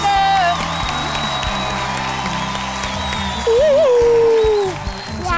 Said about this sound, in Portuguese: Palmas para a bem-vinda!